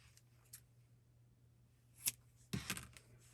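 Scissors snip a crochet yarn tail in a quiet room, giving two or three faint, quick close clicks near the end after near silence.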